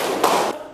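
A single short burst of hand clapping from a class playing an ice-breaking game, close and brief with no talk.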